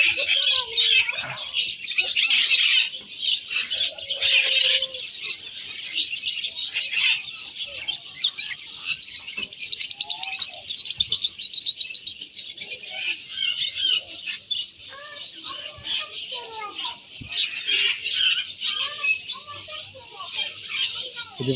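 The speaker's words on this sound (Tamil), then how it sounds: "ஸோ இது வந்து பேர்ட்ஸ் மார்க்கெட். பறவைகள் தான் இருக்கிறது." Dense chorus of many small birds chirping and tweeting nonstop at a bird market in Qatar, a loud bright twittering texture throughout, with occasional squawks and faint voices underneath.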